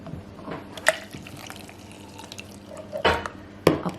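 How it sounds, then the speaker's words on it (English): About twelve ounces of warm water is poured into a container with melted butter for a keto drink mix, giving soft trickling and a few sharper splashes and drips up close. "And then I'm going to put in 12 ounces of warm water."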